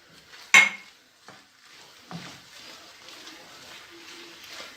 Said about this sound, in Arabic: كنحركو جيدا حتى كتجانس مع الخليط